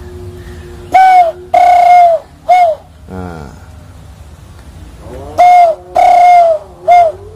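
Someone whistles an imitation of a kukur dove's coo to call birds, in two sets of three descending notes, clear and close, with a short spoken word between them.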